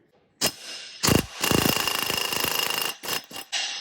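A Snap-on MG325 3/8-inch impact wrench hammering on a flywheel nut and bolt: short bursts, then a sustained rattling run of about a second and a half, followed by a few more quick blips, loud and close.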